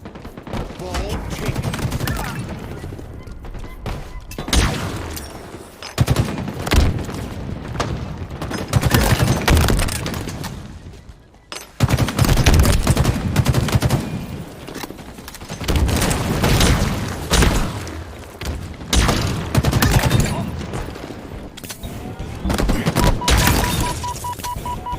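Rapid bursts of gunfire and booming shots in the Halo video game, loud and dense, broken by a few short gaps, with a commentator talking over the action.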